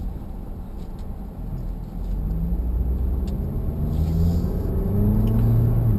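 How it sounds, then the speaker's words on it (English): A 2012 Honda Civic accelerates on the road from the driver's seat, its low engine rumble and road noise swelling steadily louder over several seconds without any speech. "Accelerates pretty well right off the bat."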